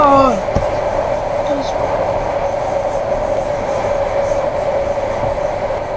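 A Q train in a subway simulator runs with a steady, loud rolling drone and a brief squeal at the start, continuous throughout with no speech.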